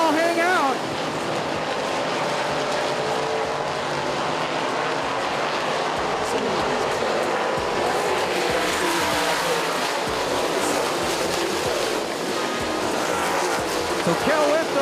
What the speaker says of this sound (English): You see the dirt cars letting it all hang out.